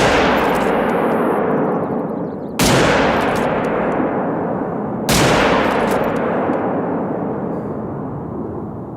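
Two loud, sharp gunshots in the hunting video game theHunter: Call of the Wild, about two and a half seconds apart, each with a long echoing tail, over a steady low rumble of background noise.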